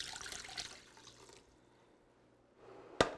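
Water pours into a pot, two cups' worth, a splashing stream that tapers off and goes quiet, followed by a sharp knock near the end, in a home kitchen.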